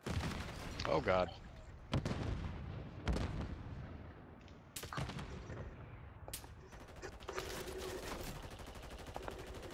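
Gunfire during a Modern Warfare III team deathmatch: sharp, loud shots and bursts come at irregular intervals, some single cracks and some rapid strings, with a player talking in between.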